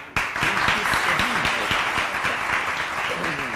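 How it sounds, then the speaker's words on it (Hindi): An audience applauds in a sustained burst of clapping, with voices calling out over it. "हाँ, तालियां।"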